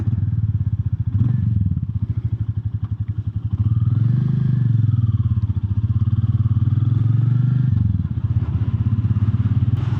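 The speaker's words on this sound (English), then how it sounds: "So let's see how it feels when I'm riding the bike." A Royal Enfield Classic 350 bobber thumps along under way, its single-cylinder engine pulsing loudly and steadily close up, with the note rising and easing slightly as it is ridden.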